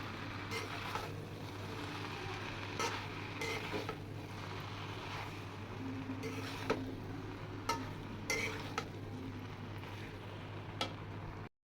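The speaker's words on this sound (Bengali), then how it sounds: "এখন আমি চাউমিনটা সব কিছুর সাথে মিশিয়ে নেব।" Chicken chow mein being tossed and mixed in a frying pan, with soft scattered scrapes and clinks of the utensil against the pan over a quiet, steady background hum.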